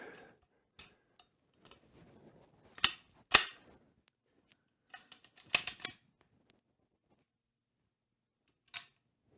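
Function test of a Savage rifle trigger and safety: sparse, sharp metallic clicks and snaps, a few crisp louder clicks standing out against near silence.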